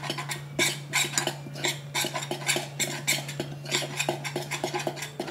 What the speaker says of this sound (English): Just going to stir this up.